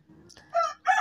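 Rooster on a farm crowing nearby, two loud bursts after a soft lead-in, heard alone without speech.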